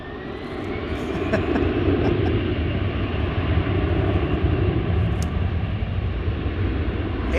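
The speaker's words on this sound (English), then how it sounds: "American Airlines, the Piedmont livery looks like it's going to land on the east side." An American Airlines airliner at DFW airport at night, a loud sustained jet engine roar that swells slightly and holds steady, close and continuous with no talking over it.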